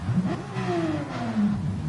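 A race car in Gran Turismo 7 revs through a short gliding pitch sweep, its engine tone rising and falling steadily at moderate volume with no talk over it.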